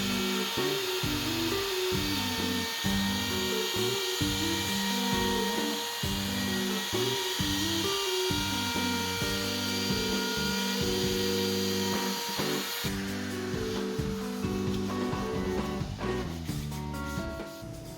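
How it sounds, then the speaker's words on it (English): A power drill bores countersunk screw holes into the wooden frame of a cornhole board, a steady loud whirring with rhythmic low-pitched bursts of cutting load throughout, easing off near the end. "This is also a good time to drill countersunk holes in the frame for the screws that hold on the face."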